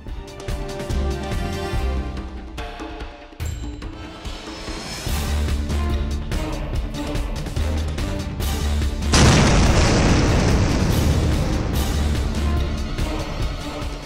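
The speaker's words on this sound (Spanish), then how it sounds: "deja el explosivo, el cual detona y causa un potente estruendo." A dynamite charge detonates at a house, heard as a long, dense rumble that swells into a louder, harsher roar partway through and stays sustained and heavy throughout.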